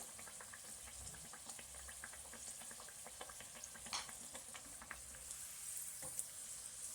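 Kachori deep-fry in hot oil with a faint, steady crackle and fizz of bubbling, scattered sharp pops rising now and then, with no voices.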